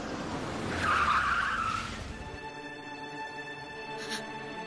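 Car braking to a stop with a short screech of skidding tires that fades into a quiet idle, followed by faint background tones.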